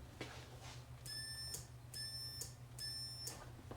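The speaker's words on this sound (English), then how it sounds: "If I push the button, meter should beep" Three faint, high electronic beeps from a multimeter continuity test, each lasting about half a second, repeated at regular intervals over a low hum.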